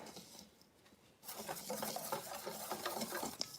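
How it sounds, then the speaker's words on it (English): Vegan gluten-free banana chocolate chip muffin batter is whisked by hand in a bowl, a faint, soft, continuous scraping and rattling that starts after a quiet second and carries on steadily, nearby but low in level. "just keep whisking and using your hand to get the clumps out"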